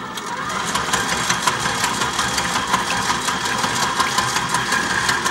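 A stand mixer runs steadily on a stir setting while mixing fruit bread dough with egg and flour, a continuous close mechanical whir with a light rhythmic rattle, without talking.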